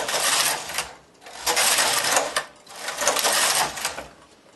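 A knitting machine carriage is pushed back and forth across the needle bed, giving loud rasping, clattering sweeps in repeated passes separated by short pauses.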